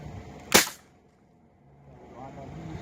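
Toy bird gun firing once, a sharp snapping pop followed by a quieter stretch with faint background noise.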